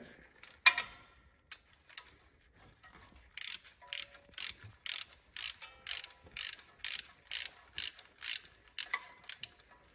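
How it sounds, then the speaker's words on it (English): A hand ratchet loosens the spark plug on cylinder 3 of an 88-98 OBS Chevy 1500 engine, first with a few scattered clicks and then a quick, steady run of crisp, close ratcheting strokes. "So I'll go ahead and pull the spark plug on cylinder 3 here."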